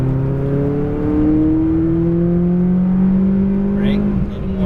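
A McLaren 570S at full throttle on a racetrack, its engine note climbing steadily in pitch as it accelerates, loud and close from inside the car, with a brief dip near the end.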